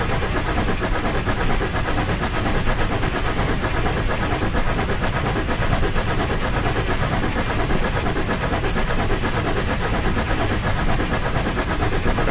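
K4 steam locomotive in Train Simulator 2015 on the Horseshoe Curve, a steady dense rumble and chuffing roar running loud and unbroken throughout with no talk.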